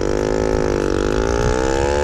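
A 50cc motorcycle engine runs steadily at close range, holding an even, loud idle buzz throughout with no voices.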